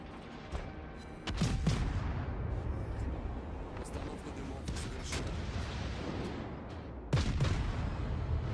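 Naval guns boom in the World of Warships video game as a ship opens fire on an enemy Cleveland cruiser, with two loud salvos standing out over continuous battle rumble and background sound.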